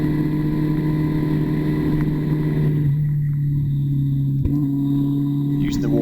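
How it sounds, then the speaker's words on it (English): Car engine pulling hard out of a corner after a downshift on a rural road, a steady close low drone with a brief pitch change midway, heard from inside the cabin throughout. "down a couple of gears, get that drive out the corner"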